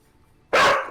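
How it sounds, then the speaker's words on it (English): A single sharp dog bark bursts in suddenly after near-silence, loud and close, then fades quickly. "I love how there's a dramatic moment and then just bark."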